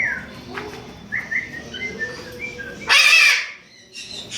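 A pet bird gives a run of short chirps and whistled calls, then one loud, sharp squawk near the end, heard close up with no human talk.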